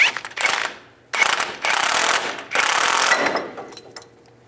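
Tie rod separator tool being tightened on a 2005-2015 Nissan Xterra's outer tie rod, heard as close bursts of ratcheting clicks in three or four runs separated by short pauses.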